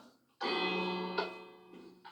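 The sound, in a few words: bell ringing in Minecraft video game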